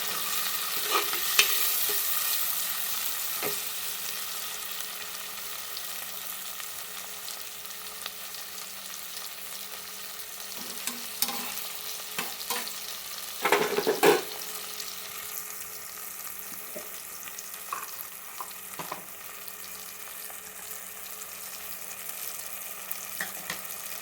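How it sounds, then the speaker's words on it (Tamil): Onions and tomatoes sizzle with a steady frying hiss in a pan, with occasional scrapes and stirs of a utensil, continuing evenly for a long stretch without voices. "அது வரைக்கும் இது நல்லா வதங்கட்டும்."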